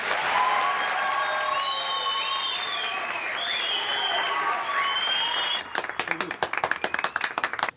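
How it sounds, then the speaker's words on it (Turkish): A studio audience at a Turkish comedy contest show applauds to welcome the night's last contestants: dense, sustained clapping with some cheering, then thinning into sharper, separate claps near the end, with voices briefly over it. "Gecenin son yarışmacıları olarak Alkışlarınızla arkadaşlarımızı davet ediyoruz"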